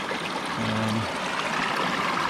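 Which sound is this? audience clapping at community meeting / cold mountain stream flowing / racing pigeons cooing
cold mountain stream flowing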